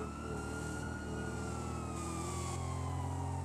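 Ambulance siren in the video game GTA, a sustained wailing tone sweeping slowly downward, loud and continuous throughout with steady engine rumble beneath.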